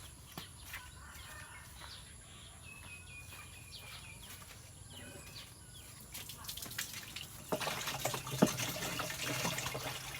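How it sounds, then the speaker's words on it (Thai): Tap water runs into a container while rice-water microbe solution is mixed for spraying durian trees outdoors, starting faint and growing louder and splashier toward the end, with birds in the background. "เดี๋ยวเปิดน้ำปั๊บ"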